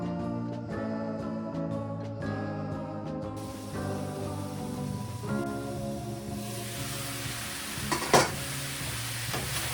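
Fried rice sizzling in a hot pan while a utensil stirs and scrapes through it, giving a steady close crackle with rhythmic scraping strokes and one louder clink near the end.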